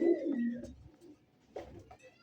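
A pair of yellow helmet pigeons offered for sale coos close by, with a strong rolling coo at first, then quieter, brief calls separated by near silence.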